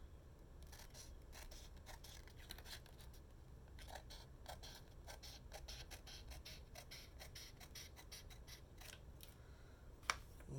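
Scissors snip through paper in steady quick runs of close, crisp cuts, with a brief sharp click near the end and no voices.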